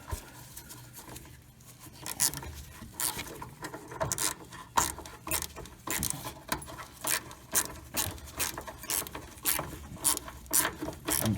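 Repeated quick clicking of a ratchet wrench backing out a 10mm bolt from the brake line T-fitting on a VW Super Beetle, steady rhythmic bursts, close and clear with no talking.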